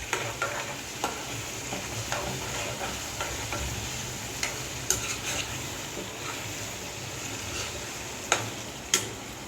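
Chicken frying in a pan with a steady sizzle as spices such as turmeric, black pepper and garam masala go in, while a spoon scrapes and taps the pan in scattered clicks.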